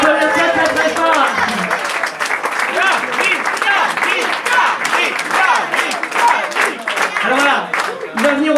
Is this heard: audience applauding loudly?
yes